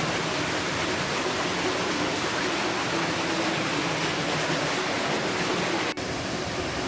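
The river-fed Oval Fountain at Villa d'Este in Tivoli pours a steady, loud, rushing roar of falling water that continues without pause from start to finish.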